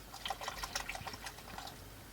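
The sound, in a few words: pouring water from bottles into a roast pot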